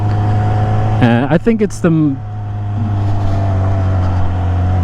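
A 2024 Suzuki GSX-S1000 motorcycle fitted with a slip-on exhaust idles with a steady low, throbbing drone close by, while someone talks briefly over it.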